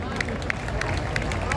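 Audience clapping and crowd murmur at an open-air Hindi poetry gathering (kavi sammelan) during the Kajali Teej fair in Bundi, a steady wash of applause with scattered louder claps over a low hum of the crowd.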